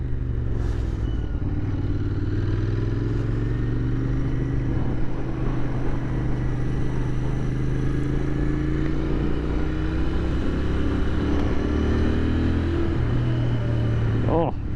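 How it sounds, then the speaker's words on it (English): Royal Enfield Interceptor 650 motorcycle engine hums and rises steadily through the revs while riding, close and continuous under wind noise, with a person talking over it. "And the engine sounds nice. She revs really nice."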